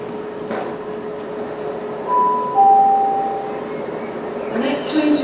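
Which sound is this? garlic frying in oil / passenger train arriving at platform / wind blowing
passenger train arriving at platform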